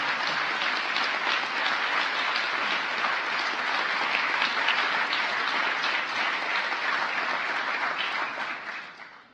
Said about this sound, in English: Please join me in giving a big round of applause to my fellow awardees